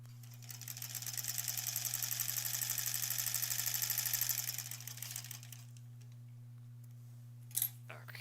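A sewing machine stitching granny square quilt pieces runs in one steady whirring burst for about four seconds, then winds down and stops. A brief click follows near the end, and there is a constant low hum underneath.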